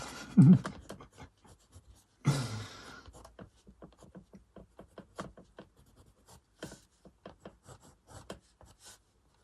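A Caran d'Ache water-soluble watercolour lead pressed hard on paper gives quiet, irregular scratchy strokes, with a couple of louder rubbing bursts among short scraping marks.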